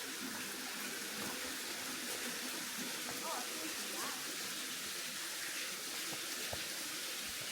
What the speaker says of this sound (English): Can actually hear some rapids at least